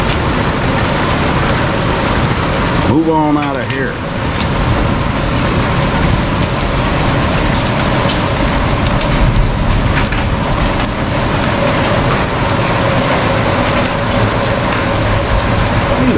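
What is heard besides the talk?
hail storm falling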